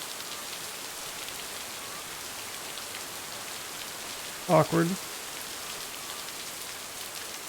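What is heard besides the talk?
rain falling in a video game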